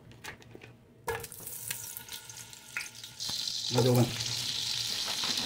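Butter dropped into a small amount of hot olive oil for a chicken liver and gizzard calderita, starting with a burst of sizzling and spitting after a quiet moment, with a brief spoken remark and some clatter.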